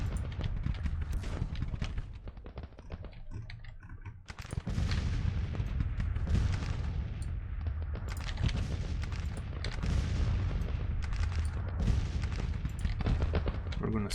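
Dense, continuous battle din of massed musket gunfire and artillery from a Civil War strategy video game, with cavalry in action, loud and unbroken throughout, briefly thinning near the middle before swelling again.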